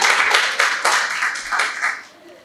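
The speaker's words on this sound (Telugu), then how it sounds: "మీరు అప్పుడప్పుడు చప్పట్లు కొట్టచ్చు" Audience clapping at an Ugadi almanac reading, a dense burst of many hands applauding together, loud and close, fading out after about two seconds.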